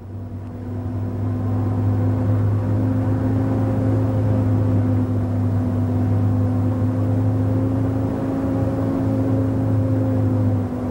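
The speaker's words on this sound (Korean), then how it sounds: "차반들은 오늘날 말과 낙타 대신 체코슬로바키아산 오토바이를 타고 길을 안내하고 있다." A Czechoslovak-made motorcycle rides across the hot Karakum sand desert, its engine a loud, steady droning hum with a constant pitch that barely varies.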